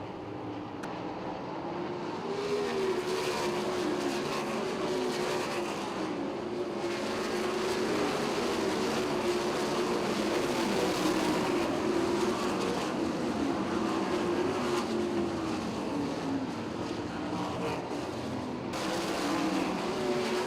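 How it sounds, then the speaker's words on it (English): 410 and 358 sprint cars racing at Williams Grove Speedway, a continuous loud engine roar with rising and falling pitch as cars pass, sustained for the full stretch without talk. "This time, Cannon may be able to sneak by, and he does"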